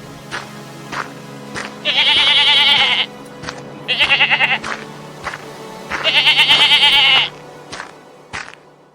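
Cartoon goats give three long, wavering bleats, each lasting about a second, with short clicks and thin shorter calls between them. The sound is loud and close, and no one speaks.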